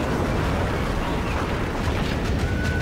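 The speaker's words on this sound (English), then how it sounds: "I'm taking fire from the battleships off to my right" Naval combat in a video game, with battleships firing from off to one side during an air and torpedo attack: a dense, continuous roar of gunfire and explosions, loud and unbroken throughout, with no voices.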